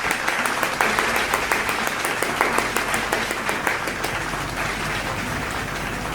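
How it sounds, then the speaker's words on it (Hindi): Loud, sustained audience applause at a Hindi-language public talk on health, social service, environment and yoga, dense clapping throughout that eases slightly toward the end. "आपकी जोरदार तालियों के बीच में"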